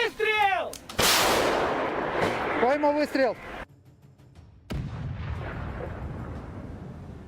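Russian artillery shelling Ukrainian tanks on a front line: a heavy blast lands with a long rumbling roar, a short lull follows, then another dull boom and sustained rumble, with an agitated voice shouting over the opening seconds.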